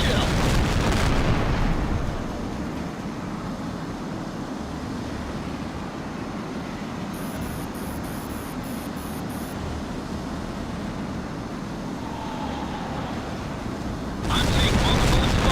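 Explosions in the H.A.W.X. jet combat video game: a heavy boom at the start and another at the end, with a low, rumbling roar of jet engine and battle noise sustained between them.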